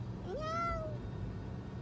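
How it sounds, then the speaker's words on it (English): A single clear cat meow, rising then falling, close and distinct against a quiet background. "How does the cat go?"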